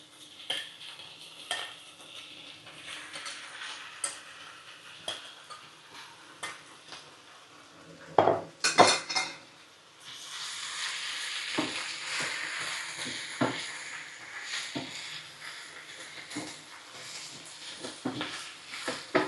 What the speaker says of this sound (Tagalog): Ilalagay ko na ang ating beef. Medyo isi-stir fry ko siya.